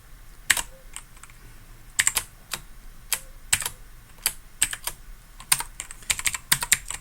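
Fingers tap keys on a computer keyboard in irregular bursts of sharp clicks, close and clear, with short pauses between runs of keystrokes.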